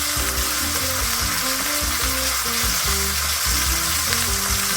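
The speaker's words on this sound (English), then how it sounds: "Ooh, do you guys hear that sizzle?" Beef roast laid seasoned side down into hot olive oil in a pot, giving a loud, steady sizzle with crackling pops throughout, no voices.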